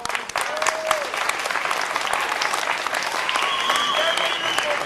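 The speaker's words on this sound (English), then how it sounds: "So let's hear a big round of applause for all of these guys." Audience at a scout pack graduation applauding, dense sustained clapping from a crowd with some cheering and whistles mixed in, fairly loud and continuous throughout.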